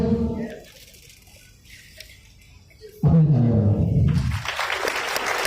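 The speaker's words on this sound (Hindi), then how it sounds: "अपने तालियां बजाएं" A class of students applauds during an on-site Python programming lesson, the clapping bursting in loudly partway through after a quiet stretch with faint talk and continuing as dense, close clapping.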